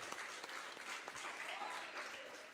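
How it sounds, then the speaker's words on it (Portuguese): A church congregation applauds during a Portuguese-language sermon, soft, distant-sounding crowd clapping that stays steady and fairly quiet for a couple of seconds. "Você pode aplaudir ao Senhor?"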